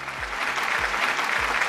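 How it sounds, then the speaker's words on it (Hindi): An audience applauding at a business testimonial event, a dense, continuous wash of clapping, fairly loud and steady, with no talking over it. "एक बार जोरदार तालियां हमारी पूरी हार्ड लाइन के लिए"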